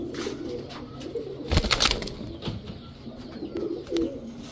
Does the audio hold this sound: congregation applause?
no